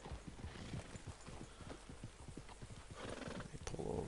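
Horse hooves clip-clop in a steady, even rhythm in the Red Dead video game, ending in a loud whinny near the close.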